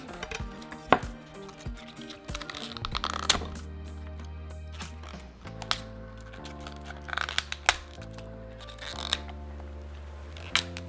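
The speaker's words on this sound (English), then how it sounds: "We're just going to cut it in half." A knife cuts a vegetable in half on a chopping board while preparing ramen, giving sharp chopping knocks at an irregular pace over a steady background hum.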